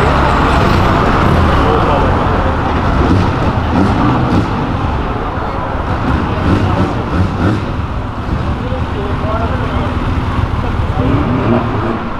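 Sports cars including a Porsche and a Chevrolet Opala accelerating along Avenida Europa: a steady, loud roadway roar of engines and traffic that holds throughout without a clear break.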